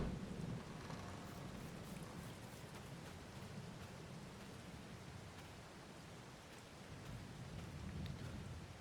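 Steady rain hisses through the whole stretch in the farming game Farming Simulator 22, a broad, even wash of falling water with a faint low rumble beneath, fairly quiet and continuous with no voices.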